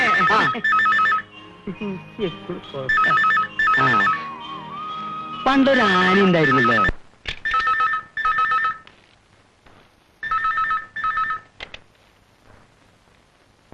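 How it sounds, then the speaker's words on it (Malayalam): A telephone rings in another room in repeated double-ring bursts, fairly loud and clear, while voices talk between and over the rings. "നീ പോയി അപ്പുറത്തെ മുറിയിൽ ഫോൺ എടുത്തേ"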